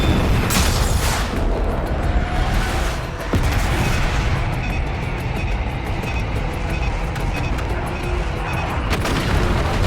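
Air-strike bomb explosions in Call of Duty: Black Ops 6, heavy rumbling booms and blasts rolling through a loud battle soundscape, with bursts of gunfire mixed in and little speech.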